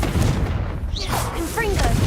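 Confringo blasting spell in the Hogwarts Legacy video game, a short burst of booming blast noise with whooshing tones, under a voice talking.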